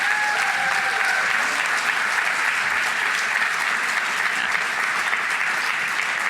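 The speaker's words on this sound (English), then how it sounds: "Everybody give a round of applause to the staff." Sustained, even applause from an audience at the Bay Area CFO of the Year Awards 2021, a dense unbroken wash of many hands clapping for the staff, loud and steady for several seconds without speech.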